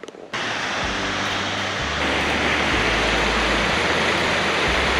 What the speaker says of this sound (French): Belle petite cascade du matin.